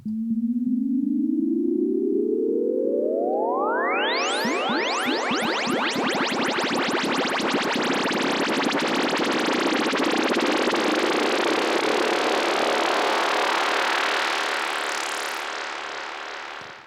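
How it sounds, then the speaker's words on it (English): A Roland SH-01A synthesizer tone sweeps steadily upward while a pulsing sawtooth LFO modulation speeds into a dense buzzing roar, holding loud before easing off at the end. "I did this on the SH01A, which has the Sawtooth LFO, which gives it that nice sound"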